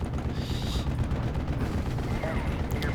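Artillery and gunfire rumble through a battle in Steel Division: Normandy 44, with dense overlapping booms and cracks forming a continuous loud barrage with no pauses.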